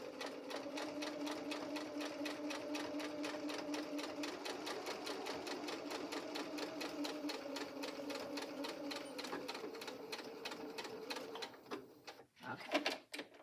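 A sewing machine stitching a fabric Japanese rice tote bag, a fast steady rhythmic clatter running continuously before stopping near the end with a few clicks, fairly quiet, with no talking.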